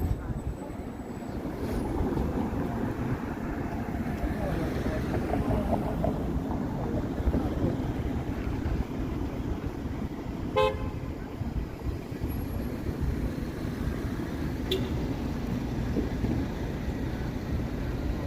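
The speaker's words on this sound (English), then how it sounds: "Maybe that was the Dundas streetcar diverting up Spadina onto College." On a cold downtown Toronto evening, a Dundas streetcar passes amid low wind and traffic rumble, sounding its horn in a short toot and then a fainter second one a few seconds later.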